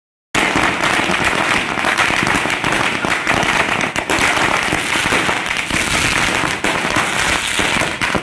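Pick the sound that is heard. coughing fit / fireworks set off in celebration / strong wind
fireworks set off in celebration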